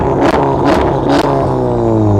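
Red hot hatch engine revving close by at a breakfast car meet, three sharp blips of the throttle in quick succession over a steady low engine drone that settles into a rising idle hum.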